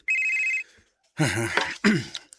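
A mobile phone rings with an incoming call: one short, steady electronic tone, then silence, followed by a person talking close by.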